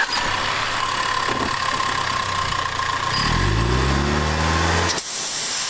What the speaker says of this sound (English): So we get a little bit of a blow-off valve sound.